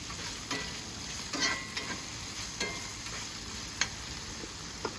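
Seasoned potatoes, peppers and onions get stirred on a grill, giving a soft steady sizzle with scattered scrapes and light clicks of a utensil, fairly quiet and close, with no voices.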